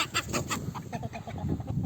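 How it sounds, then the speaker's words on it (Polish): A farmyard rooster clucks in a quick run of short, close calls, kept among hens and turkeys, with no talk over it. "Kogut."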